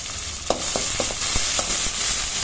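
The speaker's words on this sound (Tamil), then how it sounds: "இப்போது கறிவேப்பிலை, கொத்தமல்லி தழை இதையும் நம்ம தாளிப்பில் சேர்த்து நல்லா வதக்கிடலாம்." Curry leaves and coriander leaves sautéing in hot tempering oil, a close crackling sizzle punctuated by several quick pops and stirring taps over a few seconds, no voices.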